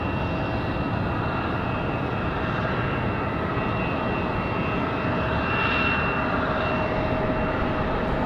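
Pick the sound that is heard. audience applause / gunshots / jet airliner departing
jet airliner departing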